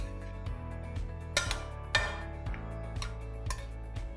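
A utensil taps and clinks rhythmically against a bowl while a feta cheese salad is mixed, roughly twice a second, over a steady low background hum.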